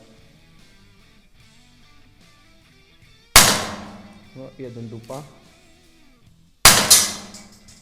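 Two sharp shots from a Beretta M84FS pistol ring out a few seconds apart, loud and close, during a shooting test, with someone speaking briefly between them.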